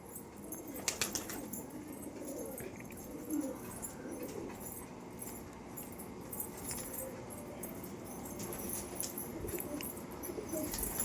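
Pet pigeons in a loft give low, soft cooing under a faint background, with a few brief wing flutters and rustles early on.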